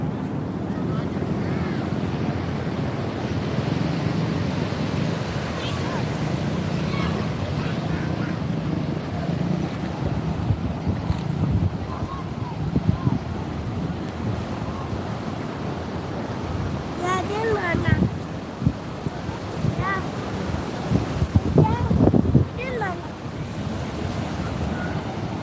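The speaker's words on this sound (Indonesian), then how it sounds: "Besar sekali ombaknya, Ti." Large ocean waves crash and roll at Parangtritis beach, a steady broad surf roar with wind buffeting the microphone, louder surges near the end and faint voices in the background.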